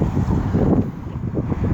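An outdoor breeze on a sunny day in Stillwater, Oklahoma, heard as low, gusty buffeting rumble against the microphone, close and fairly loud throughout the short stretch.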